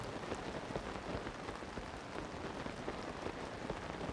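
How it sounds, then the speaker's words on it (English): Rain falls steadily in The Legend of Zelda: Tears of the Kingdom, a dense, even patter of drops on surfaces with no voices over it. "it's just raining."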